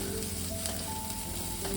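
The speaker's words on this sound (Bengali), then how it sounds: "আদা আর পেঁয়াজটা আমার" Ginger and onion paste frying in a pan, a steady close sizzle running through the whole stretch without speech.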